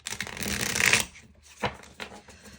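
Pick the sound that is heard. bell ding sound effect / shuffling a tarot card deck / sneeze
shuffling a tarot card deck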